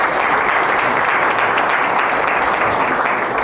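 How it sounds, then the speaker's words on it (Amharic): A large audience at a television station's 14th anniversary celebration applauds loudly and continuously, a dense, even wash of many hands clapping with no pauses throughout. "ብርሃንን በታላቅ ጭብጨባ እናመሰግነዋለን"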